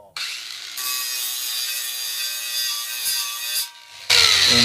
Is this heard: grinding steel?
yes